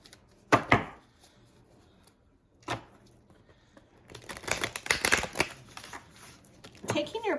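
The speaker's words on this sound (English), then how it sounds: "I'm going to pull some dream cards to begin with" Tarot dream cards shuffled and pulled by hand, giving short papery riffles and flicks in a few separate bursts, with a longer busy stretch of card handling near the end.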